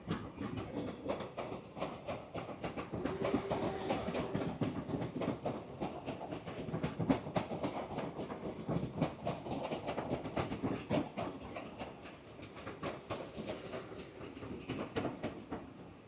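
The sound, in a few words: AC local train leaving Kalyani station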